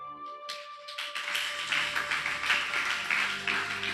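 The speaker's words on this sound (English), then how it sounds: "Clap your hand." A church congregation claps hands together during a sermon, the applause building from a few taps into steady, sustained clapping.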